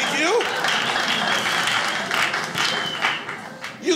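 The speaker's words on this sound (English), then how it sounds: "You clap at that one, thank you." Comedy club audience clapping during a stand-up special, a dense spread of hand claps and crowd noise lasting the full moment, fading slightly toward the end with a voice surfacing briefly.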